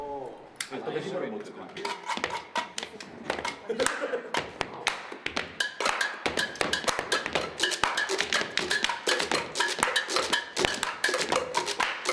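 A lighter taps rapidly against a plastic pipe in STOMP-style percussion, a dense run of sharp, close clicks and knocks. Speech runs over the tapping.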